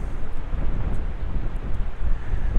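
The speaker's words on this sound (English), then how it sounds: "Wind is coming to our face." Heavy wind buffeting a microphone outdoors beside a waterfall, a loud continuous low rumble with gusty swells and no break.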